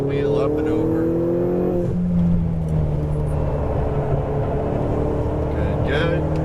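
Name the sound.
Lamborghini Huracan Performante engine on a race track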